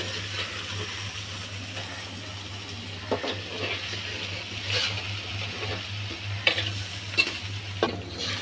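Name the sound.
hilsa fish frying in mustard oil, being flipped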